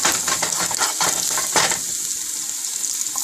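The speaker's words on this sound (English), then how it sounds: "Here goes my ginger and garlic. Just saute this for a minute," Ginger and garlic sautéing in a hot pan for a vegetable sabzi, a steady close sizzle with stirring scrapes and brief bursts of frying.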